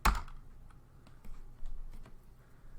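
Keystrokes on a computer keyboard as a Linux command is entered at the command line, a loud first tap followed by a few sparse, quiet clicks spread across a few seconds.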